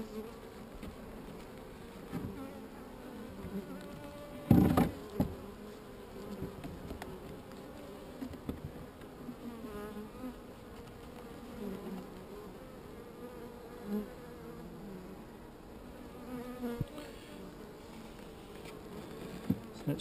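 Newly installed honey bees hum and buzz steadily around an open hive at Goose Wood. The drone is close and continuous, with one louder bump partway through and no talking.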